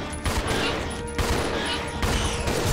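Gunfire in Resident Evil 0 HD Remaster sounds as several sharp, repeated shots in quick succession, loud and close, mixed with game noise and some talk.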